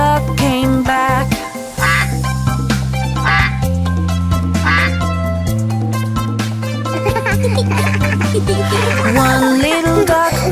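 Duck quacks in the Five Little Ducks nursery rhyme song, repeated loud quacks in rhythm over a bouncy, steady musical accompaniment throughout.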